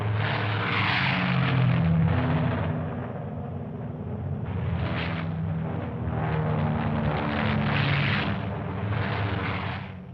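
Heavy long-range bomber propeller engines drone in a loud, continuous throb that swells and eases in slow waves, with no voices over it.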